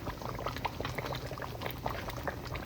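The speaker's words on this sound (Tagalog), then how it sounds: "kumukulo na siya" Meat stew bubbling at a steady boil in a cooking pot, a dense continuous simmer of small pops and gurgles, close and moderately loud.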